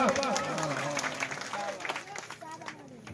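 A crowd at a village Navratri mandvo celebration claps for a music teacher, with scattered, uneven applause under a talking voice and background chatter, fading toward the end.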